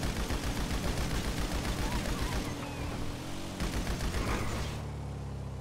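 Rapid machine gun fire from the video game GTA 5 rattles loud and continuous through most of the stretch, with a brief drop partway through before it resumes.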